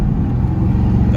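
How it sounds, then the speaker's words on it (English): A car engine, one of a group of Dodge SRT cars out on city streets, revs loud and close during a gear downshift, a dense steady low rumble lasting about a second with no talk over it. "Got another downshift."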